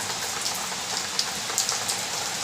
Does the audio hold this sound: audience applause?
no